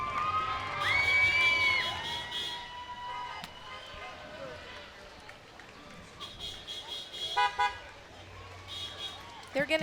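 Crowd noise at a Fourth of July parade in Bristol as a North Kingstown VFW group gets spectators riled up, with cheers, shouts and horn toots rising and falling over steady outdoor bustle and nearby talking.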